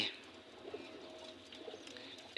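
Soft pigeon cooing, low and throaty, repeating quietly over a faint background hum.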